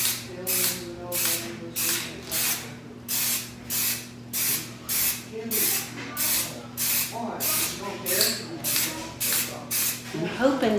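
A can of Rust-Oleum frosted clear spray paint hisses in regular bursts of about half a second, some fifteen even pulses sprayed close to the listener over pantry doors, with a faint hum underneath.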